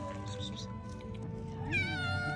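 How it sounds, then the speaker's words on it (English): A cat meows close by, a drawn-out rising and falling cry near the end, with a soft voice speaking quietly just before it. "Hello, little kitty."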